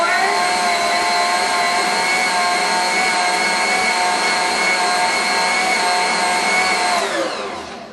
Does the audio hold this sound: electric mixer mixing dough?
yes